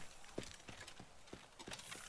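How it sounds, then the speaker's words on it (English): Horse hooves clip-clopping in the video game Teardown, a steady walking rhythm of sharp knocks, about six distinct hits spaced evenly over two seconds, fairly close and clear with no talk. "I need to find where that loose horse is."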